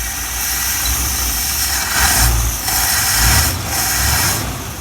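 A 1957 Buick engine idles steadily right after its carburetor was reinstalled, with a continuous rumbling drone that swells slightly twice as the idle speed is nudged up.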